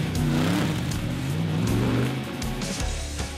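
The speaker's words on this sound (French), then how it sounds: "on va faire quelques tours de circuit avec Jules Gounon, qui est pilote professionnel dans le team AKSP et qui pilote une Mercedes AMG GT3" Mercedes AMG GT3 race car lapping a circuit in a GT series race, engine loud and close with rising and falling revs through gear changes, continuous throughout.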